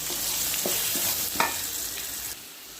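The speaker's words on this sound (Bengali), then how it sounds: "আলু খুব সুন্দর লাল লাল ভাজা হয়ে গেছে," Potatoes frying in mustard oil while cooking mutton, a steady broadband sizzle filling the pan, with a few sharp scraping or stirring knocks before the sizzle drops away near the end.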